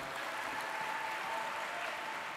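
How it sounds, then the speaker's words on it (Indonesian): Applause from a large student crowd at a university orientation event, a faint, distant, even roar of clapping that holds steady throughout with no clear individual claps or voices. "Tepuk tangan"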